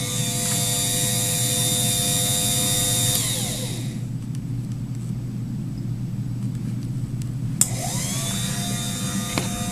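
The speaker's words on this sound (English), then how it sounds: "you can hear the motor in the background" A small 2014 wiper motor whines steadily, winds down to a low rumble, then spins back up with a rising whir.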